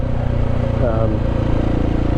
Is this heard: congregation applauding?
no